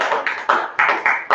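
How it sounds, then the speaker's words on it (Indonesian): A classroom of students applauding together on the teacher's request, several short bursts of clapping in quick succession, close and fairly loud, with no talk over it. "Tepuk tangan dulu."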